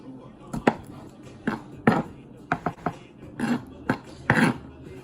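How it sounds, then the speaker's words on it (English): A knife chops garlic into big chunks on a cutting board for a scratch-made chicken fettuccine Alfredo, giving a dozen or so sharp, close, irregular knocks with short pauses between them. "I cut my garlic, but I don't want it minced. I want them in big chunks."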